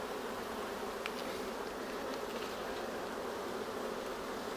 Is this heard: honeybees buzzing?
yes